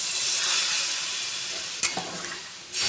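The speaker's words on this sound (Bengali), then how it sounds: "এবার জল দিয়ে দেব।" Water goes into a pan of potol (pointed gourd) and tomato as it sizzles. There is a close steady hiss, a sharp burst of spitting as the water hits, and then the sizzle surges again.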